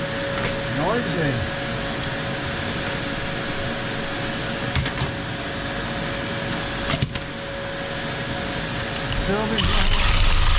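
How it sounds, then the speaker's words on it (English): A vacuum drones loudly and steadily throughout while an open fireplace chimney is swept, the constant whine broken by occasional knocks and scrapes of sweeping gear, with a voice speaking briefly over it. "I'm going to put the vacuum on,"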